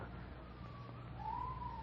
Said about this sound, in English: Police siren.